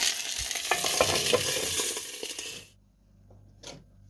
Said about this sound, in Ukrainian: на вечері смажу ковбаски